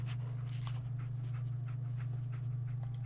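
A dog in the Fallout 4 video game pants and sniffs in quick, breathy bursts over a steady low electrical hum, close and moderately loud with no talking.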